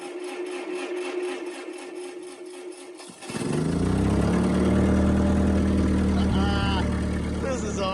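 An Allis-Chalmers FT 20 24 forklift engine cranks with a rapid ticking starter, then catches and runs loudly at a steady, rough idle nearby, with a voice briefly speaking over it.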